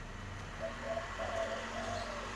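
Anggungan doves at a bird farm in Mojokerto give soft, low repeated coos, a few short phrases over steady background hum and faint distant traffic.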